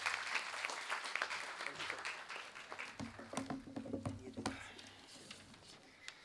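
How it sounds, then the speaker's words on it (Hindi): Seminar audience on cyber crime against women applauds, a quiet patter of many hands with a few louder claps, continuing for several seconds while faint voices murmur beneath. "जोरदार तालियों के साथ आपका अभिनंदन।"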